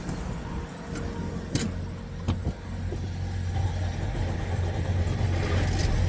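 A 2020 Freightliner Cascadia truck engine cranks with a few sharp clicks and then starts, settling into a loud, steady low idle that grows a little fuller toward the end.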